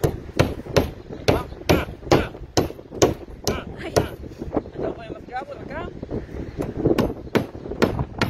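Hammer blows drive nails in sharp, evenly spaced strikes about twice a second, loud and close, with wind buffeting the microphone and someone talking between and over the hits.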